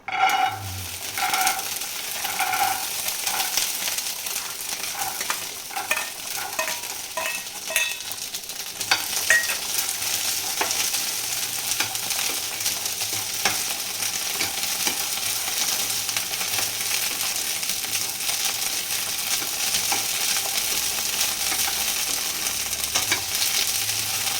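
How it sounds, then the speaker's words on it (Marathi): Green peas roast in a hot pan for a Marathi-style matar paneer, giving a steady close sizzle broken by frequent scraping stirs, loudest early on and then a continuous crackling frying hiss with no voices. "थोडेसे मटर भाजून घेते।"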